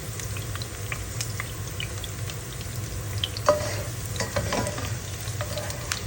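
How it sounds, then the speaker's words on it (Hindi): Okra sizzles and fries steadily in a pan, a continuous soft crackle with a few clinks of stirring utensils near the middle and end, close by with no talking. "भिंडी मेरी फ्राई हो चुकी है"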